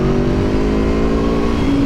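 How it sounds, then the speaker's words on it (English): An Aprilia Tuono V4 1100 Factory motorcycle's V4 engine holds a loud, steady rev with a smooth droning tone and slightly rising pitch, heard close throughout without talking. "This motor sounds so good for a V4."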